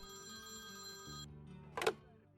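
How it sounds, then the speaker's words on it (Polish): An old-style telephone bell rings inside the video game Priest Simulator, a sustained electronic ring that cuts off and gives way to a short click as the receiver is picked up, faint and with no talking. "Odbierzmy sobie telefon."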